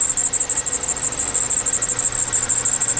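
A serpentine belt squeals on the engine of a 2009 Hyundai Elantra GLS automatic, a steady, piercing high whine that pulses rapidly over the low engine hum.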